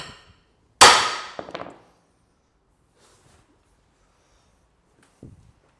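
A loud metallic clang rings out and decays, followed by a smaller knock, then quiet and one faint strike near the end, as a big hammer strikes metal during frame fabrication on a Mercedes SLK gullwing project.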